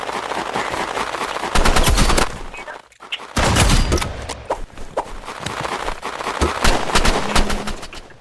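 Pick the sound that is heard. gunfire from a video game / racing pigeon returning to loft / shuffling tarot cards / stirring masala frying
gunfire from a video game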